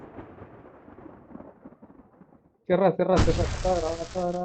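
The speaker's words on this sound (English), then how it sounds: "I can set off more of the fireworks from here and help you out!" Fireworks going off in the video game Alan Wake Remastered, a sudden loud burst of booming blasts and crackle that erupts after quieter game sounds and keeps rumbling to the end.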